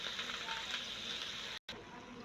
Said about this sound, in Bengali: দেখুন আমি দিয়ে দিয়েছি শাকগুলো কড়াইয়ের মধ্যে এবার ভালো করে একটু নেড়ে নেবো